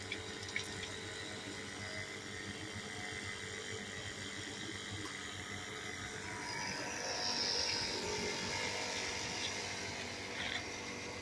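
Water streams steadily from a Rixens portable hot water shower, a constant moderate hiss with no voices, swelling slightly louder partway through.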